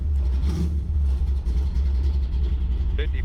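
A 1973 Plymouth Satellite big-block stroker engine idles steadily as it warms up, a deep continuous low rumble running throughout, with faint background noises over it and a brief sharper sound near the end.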